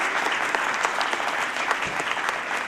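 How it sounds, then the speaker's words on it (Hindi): An audience claps loudly and continuously at a self-defence workshop in a girls' college, a dense, sustained round of applause welcoming a guest, with no voices over it. "आइए एक बार जोरदार ध्वनि के साथ में हम स्वागत करें, ताली बजाकर हम आपका स्वागत करें"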